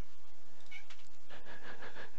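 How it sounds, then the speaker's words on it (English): A cat meows indoors, faint and somewhat distant, a short rising call followed by a longer wavering cry with no talking over it. "Can you guys hear the cat on the stream?"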